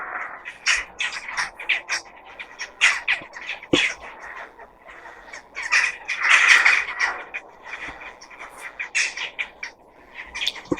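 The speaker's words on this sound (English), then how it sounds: "the birds are annoying" Birds squawk and chirp outdoors in a steady, busy chorus of sharp, repeated calls, fairly close and loud, with no voices.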